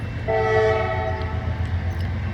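A train passes in Wyoming, a loud, sustained multi-tone horn blast sounding over a heavy rolling rumble, then fading to steady rail noise close by.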